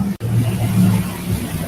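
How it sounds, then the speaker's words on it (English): A loud motorcycle roars steadily close by, a continuous low engine drone with a brief dropout near the start and no talking. "on the motorcycle. He's too loud."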